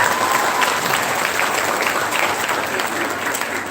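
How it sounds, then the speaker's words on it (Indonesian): Steady, dense audience applause at a public entrepreneurship lecture given by Indonesia's Minister of Cooperatives and SMEs, sustained at an even level throughout with no clear pauses. "Tepuk tangan dulu dong."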